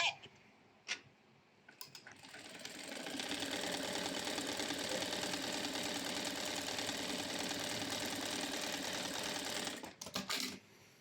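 A GS90 model 701D4 overlock sewing machine runs steadily, stitching a widely spaced double thread in a simple stitch; a few brief clicks come first, then a continuous close, loud mechanical whir that stops abruptly near the end.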